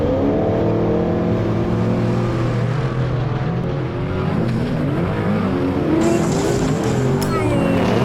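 Race cars in a GTR Baja Bouncer invitational heat, engines droning and revving steadily throughout with shifting pitch, loud and close, a voice talking faintly underneath.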